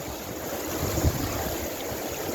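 Creek water running through a gold sluice, a steady close rush and gurgle of flowing water with a little wind noise and a brief soft knock midway.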